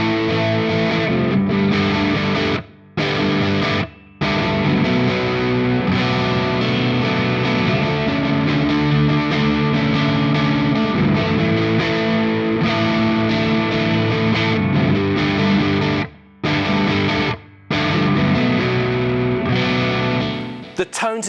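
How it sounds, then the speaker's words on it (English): PRS SE Mark Holcomb electric guitar with Scourge and Scarlet pickups, played through heavy distortion effects, a dense, loud riff running continuously with a few abrupt stops. "The tones that you can get out of this guitar with the Scourge and the Scarlet set of pickups in there."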